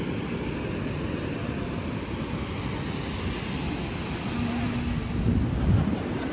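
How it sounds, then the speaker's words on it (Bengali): Pacific Ocean surf roars along a Pacific Northwest coast with a white-sand beach: a steady, dense wash of breaking waves mixed with wind buffeting, swelling slightly near the end. "সমুদ্রের গর্জন কানে শোনা যাচ্ছে না, এত গর্জন সমুদ্রের। আর ঢেউ দেখুন, এটাই বলে প্রশান্ত মহাসাগর।"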